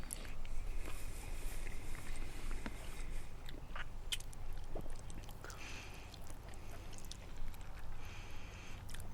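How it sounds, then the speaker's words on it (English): Several people chewing on semi-spicy chicken wings at a backyard cookout, with steady low wet chewing and biting sounds up close, scattered small clicks and crunches, and continuous background noise throughout. "Now you guys get to listen to us chew on some wings for the next 10 minutes"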